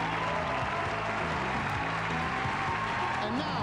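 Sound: audience applause at Miss Universe 2000 pageant

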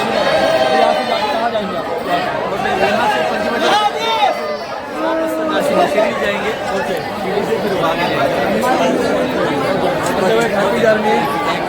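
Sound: crowd chatter at Trimbakeshwar Jyotirling temple, Nashik

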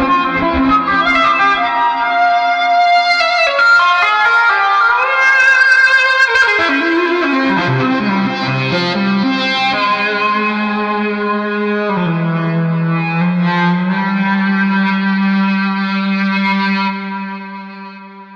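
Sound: LinnStrument electronic instrument performance

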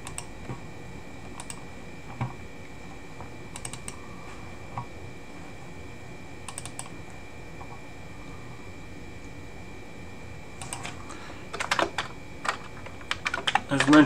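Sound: typing on a Commodore 64 keyboard

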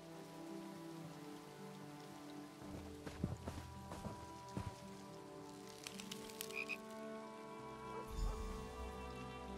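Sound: frogs croaking at dockside frog races in video game Elder Scrolls Online

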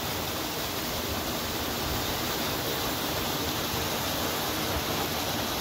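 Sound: treated wastewater dropping over steps into river

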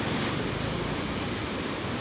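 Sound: small waterfall flowing

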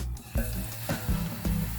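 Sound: battered chops frying in hot oil in a pan

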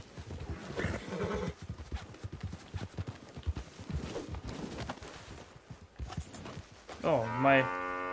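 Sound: horse in Red Dead Online video game

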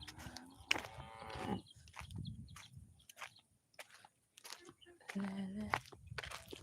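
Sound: herd of buffaloes mooing

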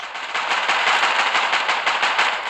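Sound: gunfire in a video game

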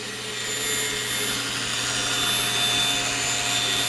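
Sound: bandsaw cutting a wooden push stick shape

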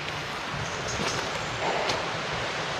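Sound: forest stream flowing below

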